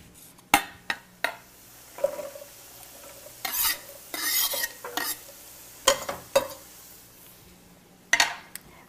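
Food dropped into butter in a pan for chicken cacciatore, sizzling beneath a series of sharp utensil scrapes and clacks against the pan, close and irregular, with bursts of louder frying between.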